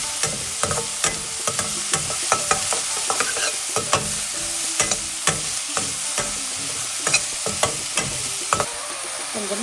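Onions fry with mushrooms in a pan over a high flame, giving a constant close sizzle broken by frequent sharp scrapes and taps of a spoon stirring.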